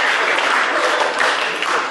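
Applause from a banquet audience at a recognition event, steady dense clapping that fills the whole moment at close range, with no voices rising above it.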